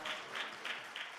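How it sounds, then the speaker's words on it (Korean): Faint, steady applause from a church congregation, rising and falling slightly in gentle waves over a brief moment. "하나님께 영광의 박수 올려드립시다"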